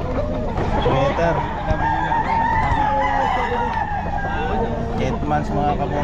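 A Sweater-line gamefowl rooster at the Bocaue pet market crows loudly and close by, its long call rising over people talking, other birds and busy market noise.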